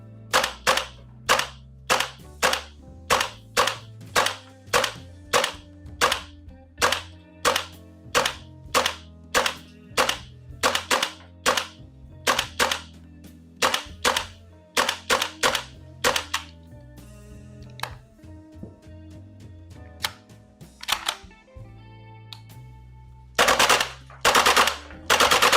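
WellPro PP-19-01 Vityaz airsoft gas blowback replica firing in cold weather around 40 Fahrenheit: a long run of sharp, loud snapping shots at a steady, slightly slowed pace, with a louder burst at the end.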